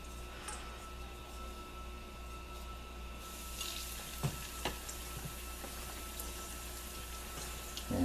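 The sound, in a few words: andouille sausage frying in a wok-type pan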